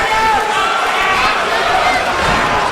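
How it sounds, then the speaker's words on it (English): A wrestling crowd at a 2006 1PW event roars loudly and continuously, a dense wash of cheering voices that holds steady throughout. "And the crowd responds even louder for a show of respect."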